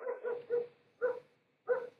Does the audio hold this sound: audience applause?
no